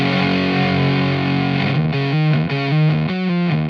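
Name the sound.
electric guitar with Fishman Fluence humbuckers through Teisco fuzz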